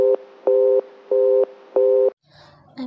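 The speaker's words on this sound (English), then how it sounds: "Murray Hill 40098 is busy." A telephone line gives a busy signal: four evenly spaced short tone bursts, steady and clear, followed by faint background noise after the last beep.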